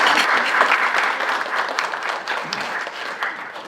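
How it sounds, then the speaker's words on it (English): Audience applause at a survivorship seminar, a dense steady wash of many hands clapping together, fairly loud and sustained throughout with no talking over it. "I'd like to have a round of applause for that"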